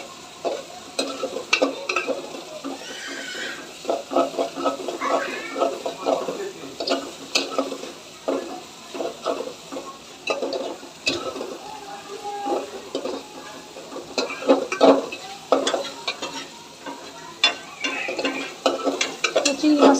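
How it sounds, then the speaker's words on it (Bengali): Shrimp fry with little spice in a pan as a utensil keeps stirring: a continuous sizzle runs under repeated close scrapes and metallic clinks for twenty seconds. "চিংড়ি মাছটা প্রায় ভাজা হয়ে গেছে"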